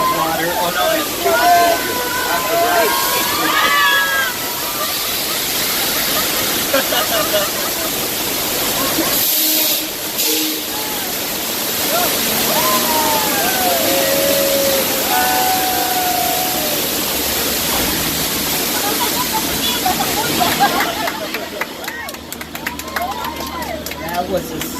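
A simulated earthquake effect on the Universal Studios Hollywood tram tour: loud rushing, crashing water and rumbling fill the scene, with crowd voices and screams over it and a brief drop near the middle.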